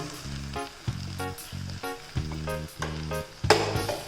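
Chopped fruit-peel vegetables hitting hot oil with cooked-down tomato, a loud close sizzle and spatter rising in bursts, with repeated low rhythmic thumps underneath and no talking.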